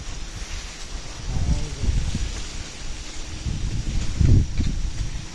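Strong wind blows outdoors at night during a horror-themed camping trip, a steady rushing roar with low gusty rumbles swelling around the middle and again near the end, with no one speaking.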